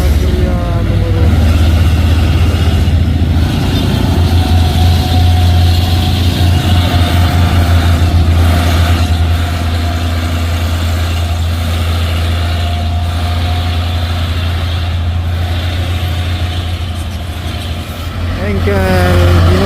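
A heavily loaded truck trailer rolls downhill at Bukit Kodok, its engine giving a loud, steady low drone that continues throughout, with traffic noise around it and voices talking over it.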